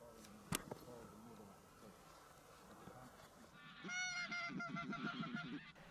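A flock of geese honking as they approach during inland goose shooting, faint at first, then a dense chorus of overlapping honks growing louder in the last two seconds after a sharp knock near the start.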